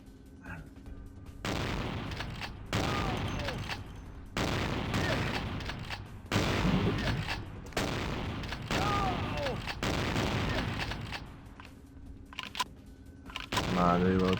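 Gunfire in Vampire the Masquerade Bloodlines: dense, sustained bursts of loud shots with short gaps between volleys, and someone talking over the shooting.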